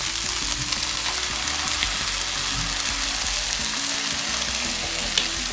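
Beaten egg mixture poured over fried onion sizzles loudly and steadily in a pan, a dense continuous crackle with no voices, close up throughout.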